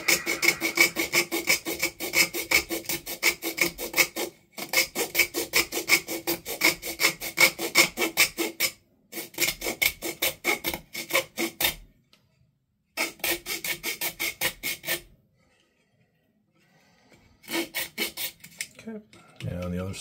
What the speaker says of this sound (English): hacksaw blade here.